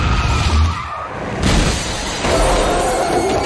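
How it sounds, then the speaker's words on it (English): Film car crash from Final Destination 2: loud tire skids, shattering glass and grinding metal pile up in bursts, with a sharp new impact halfway through and sustained crunching noise after it. "It has got explosions like mad car crashes, grinding metal, cars flipping all over the place."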